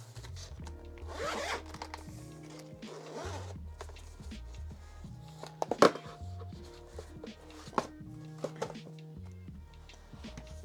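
A zipper on the hard plastic case of a Sony DualSense Edge controller is pulled in several long rasping strokes, close and clear, separated by pauses with light clicks and a few sharp knocks of handling.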